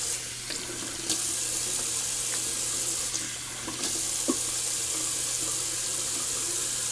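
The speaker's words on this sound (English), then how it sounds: "Just gonna rinse my face off with some cold water." Bathroom sink faucet running cold water for rinsing the face after a shave, a continuous close splashing hiss with occasional small splashes from hands in the stream, no talking.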